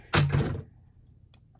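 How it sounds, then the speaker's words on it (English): A small 5x5 Japanese Rubik's Cube knocked off a surface, landing in a short pair of close thuds and a brief clatter, then a faint tap as it settles. "I just knocked off a Rubik's Cube."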